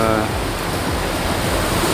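A racing sailboat in the Transat AG2R La Mondiale surfs down waves in gusts over 30 knots, giving a loud, steady rush of wind and water noise throughout.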